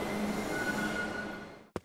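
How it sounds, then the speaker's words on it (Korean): A train rolls into Seoul Station with a steady, loud rumble and a faint high squeal, fading before a sharp bump or clunk near the end; no talking. "드디어 기차가 서울역에 도착했어요."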